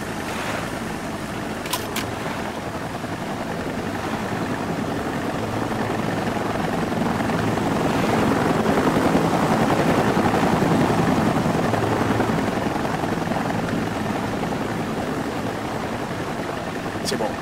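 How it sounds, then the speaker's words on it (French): A helicopter's rotor drone in the video game Sniper Ghost Warrior swells closer and louder, peaking midway then easing slightly, with a few faint clicks over the steady engine roar. "Un hélico approche par l'est."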